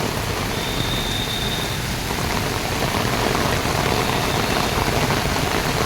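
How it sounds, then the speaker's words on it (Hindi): Heavy monsoon rain pours down steadily on a flooded Delhi street near a red light, a loud, dense, unbroken hiss with no talking. "बारिश बहुत तेज़ी से पड़ रही है।"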